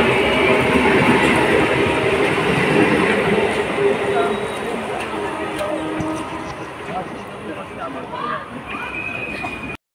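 From inside a moving train there is a steady, close rumble and rattle of the carriage, loud at first and easing slightly toward the end.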